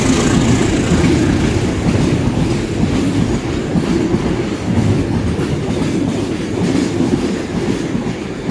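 A long freight train of fuel tanker wagons rumbles steadily past a station close by, its wagons clattering with a continuous clickety-clack over the rails, loud and sustained throughout.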